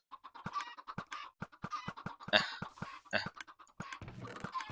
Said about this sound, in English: there's so many chickens being spawned